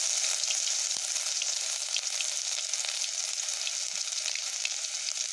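Garlic paste hits hot oil with reddened chilies in a pan for a spicy Loitha fish curry, producing a steady close-up sizzling hiss with faint scattered pops and no voices.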